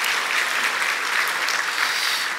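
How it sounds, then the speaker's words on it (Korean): A church congregation at a Sunday service applauds the choir with a dense, steady round of clapping that stays even and full from start to end. "우리 하나님께 큰 박수로 영광 올려드리겠습니다"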